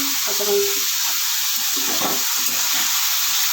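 Slit green chilies sizzle steadily in hot oil, a bright continuous hiss close by, with a few brief spoken words over it.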